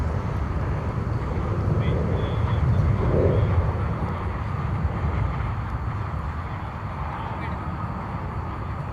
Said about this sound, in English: It's an Airbus A321, flight 2283 off to Portland, Oregon, with the U.S. Airways retro livery.